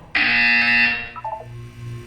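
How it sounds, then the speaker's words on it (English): A loud, harsh electronic buzzer from the video game Portal 2 blares for about a second and then cuts off, followed by a few short beeping tones over a low background hum. "When you hear the buzzer, look down at the floor."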